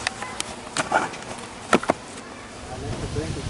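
A swarm of honeybees being set into a box gives off a faint, thin buzz, broken by a few sharp knocks and bumps, close by.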